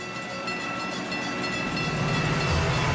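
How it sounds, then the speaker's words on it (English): A passenger train rolls along the tracks with a steady, loud rumble and broad rushing noise that swells slightly toward the end. "Emergency fuel gets passenger trains rolling."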